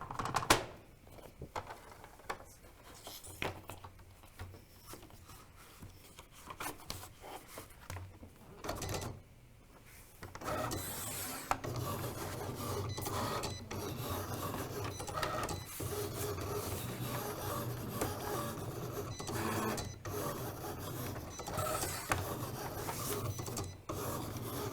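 A Cricut cutting machine cuts paper with a long run of clicking, whirring mechanical passes, quiet and close, starting and stopping as the carriage moves. The sound continues steadily and nobody speaks.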